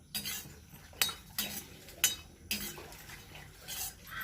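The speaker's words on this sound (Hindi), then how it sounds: "मखानों को हमें अच्छा क्रिस्पी होने तक भूनना है।" Fox nuts (makhana) being dry-roasted in a pan until crispy, with repeated scraping and clinking of a spoon or spatula against the metal pan in irregular bursts, close up with no talk.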